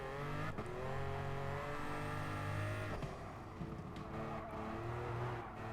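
Race car engine from Gran Turismo Sport, midship challenge, a steady droning rev with shifting pitch, brief tire squeals and gear changes, loud and continuous without talk.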